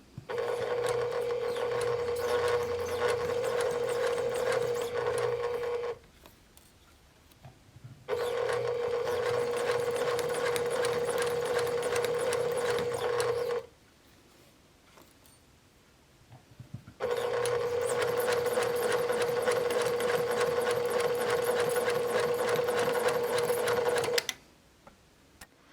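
A sewing machine stitches pleats into fabric in three long runs of steady, loud motor hum and needle clatter, separated by brief quiet pauses.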